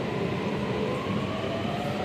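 A Delhi metro train running, heard as a steady, loud rumble and hum from inside the carriage with no break and no speech.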